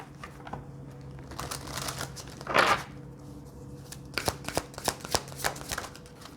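Tarot cards being shuffled by hand, a steady run of soft papery riffles and flicks with one louder burst of shuffling midway and sharper card taps toward the end, close and fairly quiet.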